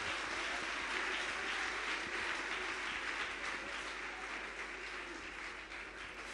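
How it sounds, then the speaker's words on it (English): High school students at an outdoor school tour event applaud in a steady, faint, distant wash of clapping that carries on evenly without a break. "Give yourselves an applause."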